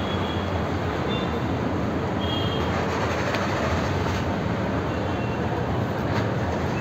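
Steady rumbling train noise at Churchgate railway station in Mumbai, a continuous dense roar of rolling rail cars with no pauses.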